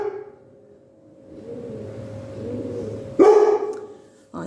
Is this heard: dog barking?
yes